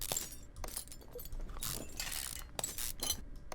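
Leaf spring U-bolts come off a car in Car Mechanic Simulator 2015, giving rapid mechanical ratcheting and clanking clicks in dense bursts, close and steady, with no talking.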